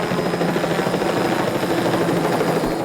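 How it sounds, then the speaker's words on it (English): Helicopters carrying trees fly overhead in an indie drama film, a loud, steady rotor drone with a fast pulsing chop that holds constant and close throughout, with nothing else on top. "the helicopters delivering the trees aren't helping things"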